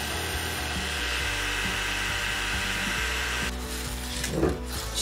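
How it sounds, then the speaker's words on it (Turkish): A small hard disk drive spindle motor whirs with a steady high-pitched whine, then cuts off near the end, followed by a brief clunk. "Hard disk çalışmaya başladı."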